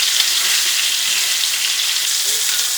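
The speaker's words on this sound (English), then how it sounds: "Now we'll flip it up and sear it on its ends as well." Beef sears in a hot skillet with a loud, steady, close sizzle and popping fat that holds evenly throughout, no voices.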